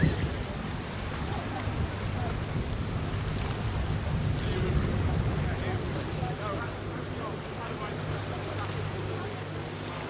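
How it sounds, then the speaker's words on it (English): A boat's engine hums beneath rushing water and wind buffeting the microphone, a continuous wash of noise as it speeds out of a North Cornwall harbour. "I'm moving very fast down there on the way out of the harbour, the boat trip."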